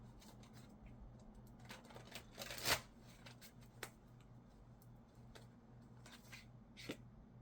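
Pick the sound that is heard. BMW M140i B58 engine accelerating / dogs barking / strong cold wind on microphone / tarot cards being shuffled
tarot cards being shuffled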